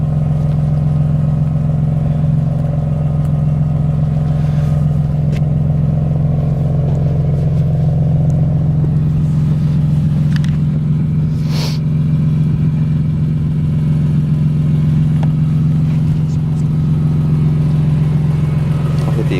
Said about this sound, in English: Exhaust has got a real nice note to it.